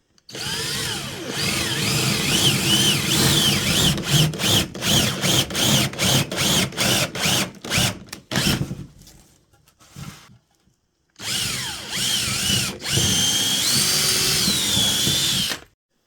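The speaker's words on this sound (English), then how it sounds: "This is so I don't drill all the way through my board" A power drill bores holes into a wooden board partway through for dowel rods while building a floating shelf, loud whining bursts repeating in a stop-start rhythm with a brief quiet gap before drilling resumes.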